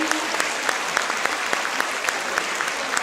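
Steady applause from a crowd greeting hip-hop and other dance groups at a youth dance competition final, dense continuous clapping with a few sharper claps standing out.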